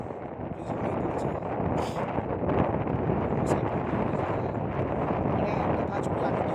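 Strong gusty wind buffeting at a swaying rope bridge in Arunachal Pradesh, a loud continuous roaring rush that swells after the first second and holds steady, with brief faint voices under it.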